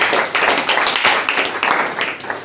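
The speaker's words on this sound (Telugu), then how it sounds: "గట్టిగా చప్పట్లు కొడు" A church congregation claps loudly during a Sunday service, producing dense, continuous clatter that stays close and steady throughout.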